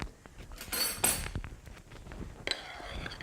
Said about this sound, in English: And then I mix them together and give it a really good stir.